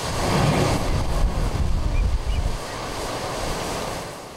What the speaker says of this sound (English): The ocean waves crash into an underground crevice, and the only way out is, well, up.